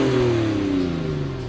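Toyota Tacoma with a 2.7L or 3.4L engine and a stainless Flowmaster American Thunder exhaust, a loud steady droning rumble whose pitch falls gradually as the engine winds down, close by and with no talk over it.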